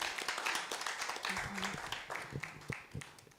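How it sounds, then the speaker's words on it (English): An audience claps for the chairperson at a debate event, a fairly close round of hand claps that fades toward the end, with a voice talking over part of it. "Please let's clap for our chairperson"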